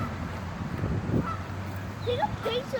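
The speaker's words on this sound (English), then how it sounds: "And we got lots of goose over here." Geese in a city park in Guelph, Ontario give several nasal honks over steady outdoor background noise, fairly close, with no clear talking.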